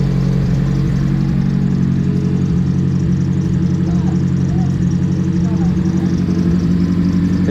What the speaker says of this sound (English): when you rev it up a little bit and you start hearing the knocking noise